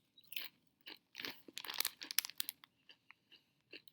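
Doritos chips crunched by someone eating them: a run of sharp, close crunches and chewing bursts, irregular and dense in the middle, quieter at the end, with no talking.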